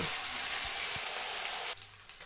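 Ginger-garlic paste fries in a hot pan with a dense, loud hiss of sizzling oil that runs steadily and then drops off sharply near the end, leaving a quieter crackle, no voices.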